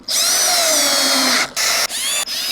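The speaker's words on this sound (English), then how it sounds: "pop a couple more screws in" A cordless power drill whines at high speed for about a second and a half while driving screws into a harvest-rack hardware kit during assembly, followed by three short, sharp bursts close up with brief pauses between them and no talk.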